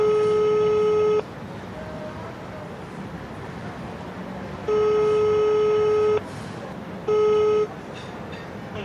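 Spanish mobile phone call ringing out unanswered on the Movistar network: three long steady ringback tones separated by gaps, the last one shorter, heard clearly over a low background murmur.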